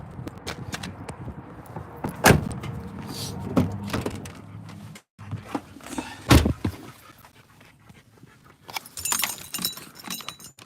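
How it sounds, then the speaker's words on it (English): Someone climbs into a vehicle with jangling keys and rustling, and a couple of heavy thuds sound like a door shutting, with faint panting nearby. "I'm gonna get back in the vehicle here and get warmed up."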